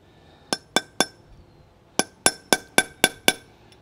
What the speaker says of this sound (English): We need to pound out the stud, so we're just gonna flip it over and pound it out.